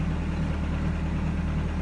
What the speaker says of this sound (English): As it warms up, the knock gets worse.